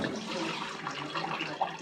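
Water at 9.5 pH runs in a steady stream from the spout of a Kangen water ionizer machine, close by with a soft splashing hiss throughout.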